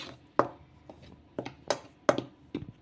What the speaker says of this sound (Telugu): మొత్తం ఒకసారి చేతితో కలపకుండా స్పూన్తో కలిపేసుకుందాము